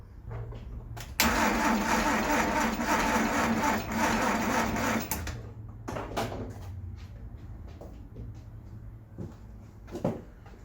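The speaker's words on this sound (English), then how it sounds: "make sure the starter's all good to go, and just let it crank for a little bit so I can build some oil pressure" A Ford Festiva with a swapped-in B6D engine cranks on its starter without firing, a steady loud whirring churn lasting about four seconds, then a few shorter clunks and mechanical clicks nearby.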